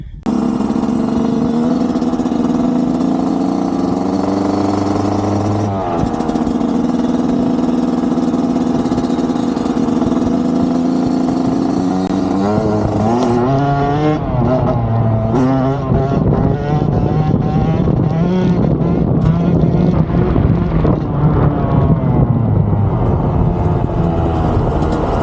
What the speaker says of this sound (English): I'll flip it around, come back up the hill on a beautiful wheelie